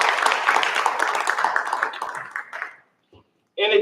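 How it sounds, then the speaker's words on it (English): Applause from the audience at a school board of education meeting honoring a trustee, a room full of clapping that fades out over about three seconds, followed by a brief voice. "Another round of applause for Trustee Johnson, please."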